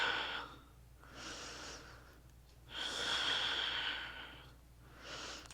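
A person breathing slowly and deeply during an advanced flow yoga session, with long audible inhales and exhales in a steady rhythm, close and soft, no talking.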